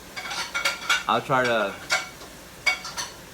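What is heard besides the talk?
exhaust fan and after-cooking cleanup with dishes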